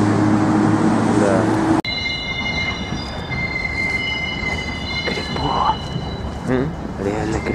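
A train rolls past on a railway at night in a city, a steady loud rumble with long, high wheel squeals ringing over it, while people talk nearby.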